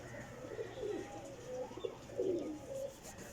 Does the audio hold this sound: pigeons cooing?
yes